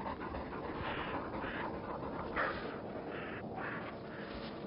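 Exhausted sled dogs pant steadily after a long, hard day on the trail in wolverine country, a continuous breathy rasp held close and at a moderate level throughout.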